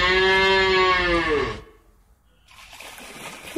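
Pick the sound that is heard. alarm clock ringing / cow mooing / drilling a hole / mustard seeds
cow mooing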